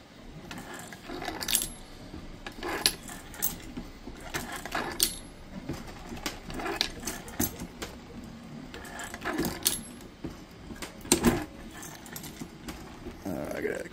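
Brass cartridge cases drop into a Lee 6 pack case feeder, giving scattered sharp metallic clinks and rattles at irregular intervals, close and moderately loud, with a voice speaking at times between them.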